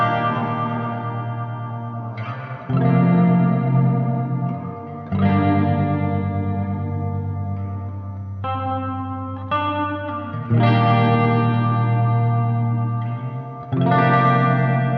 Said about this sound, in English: You can hear the tremolo cutting through.